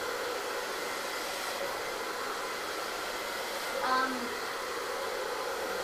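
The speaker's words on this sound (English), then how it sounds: "all the hair from here to here and down is all being blow dried from that diagonal" A hair dryer blows steadily and loudly throughout while a layered bob haircut is dried, holding a constant airy roar with a slight shift near the end.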